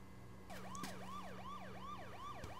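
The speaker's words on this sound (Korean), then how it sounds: "꽤나 가까이서 들리는 사이렌 소리에 화를 내며 사라지는 양아치들" A wailing emergency siren sweeps up and down in a steady repeating cycle, loud and close by, with a low engine hum beneath it and no one speaking.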